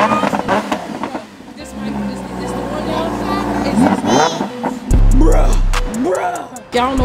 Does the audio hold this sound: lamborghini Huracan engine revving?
yes